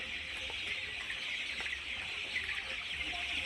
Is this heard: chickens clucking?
yes